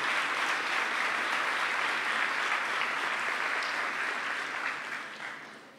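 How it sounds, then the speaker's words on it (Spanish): A crowd claps steadily during a church service in a dense, sustained burst of applause that holds loud for several seconds, then tapers off toward the end. "denle un aplauso"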